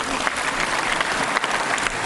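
Applause fills a parliamentary-style assembly on a French-language television news broadcast, steady and dense from many hands, loud and close throughout with no clear talk over it.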